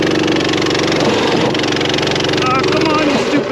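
Small minibike engine with a torque converter drones and revs unevenly nearby, loud and continuous with rising and falling pitch, while someone talks over it.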